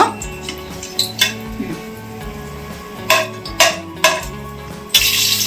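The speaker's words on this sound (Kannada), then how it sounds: "ಇದನ್ನೆಲ್ಲ ಸೇರಿಸ್ಕೊಂಡು ಮೀಡಿಯಂ ಫ್ಲೇಮ್ನಲ್ಲಿ ಒಂದು ನಿಮಿಷ ಫ್ರೈ ಮಾಡ್ಕೊಳ್ಳೋಣ" Whole spices frying on medium flame in a pan for mushroom biryani, heard as scattered metallic clinks and scrapes of a utensil against the pan over a steady low hum.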